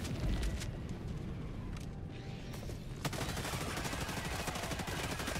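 Airburst rocket launcher firing in Helldivers 2 against Terminids, a loud dense wall of explosive blasts and rattling gunfire that dips briefly, then a sharp burst launches another sustained roar.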